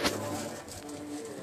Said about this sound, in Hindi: ये सियालकोटी कबूतर है